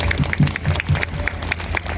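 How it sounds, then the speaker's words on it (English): Crowd clapping at the closing ceremony of a creative arts festival, with dense, steady applause from many hands, close and moderately loud, lasting a couple of seconds without speech. "rousing applause."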